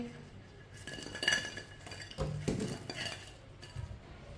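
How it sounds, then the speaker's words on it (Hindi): Freshly fried chicken is moved from the pan onto a plate, with clinks of utensils and dishware and a faint sizzle in a home kitchen, a few close knocks and scrapes, no speech. "इसे प्लेट में डाल लेंगे।"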